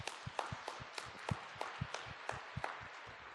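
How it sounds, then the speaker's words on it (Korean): Congregation at a Wednesday church service clapping in a quick, even rhythm, a run of regular sharp claps repeating about three times a second, fairly faint and with no talk over it. "Let's give Him a clap."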